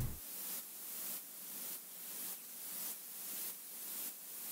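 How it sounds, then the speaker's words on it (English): A very quiet white noise layer sits low in a synth-driven music mix as a soft airy hiss, swelling and dipping in a regular pulsing rhythm about every half second, alone with no voices. "this white noise is another great thing that's involved to make it full and sound"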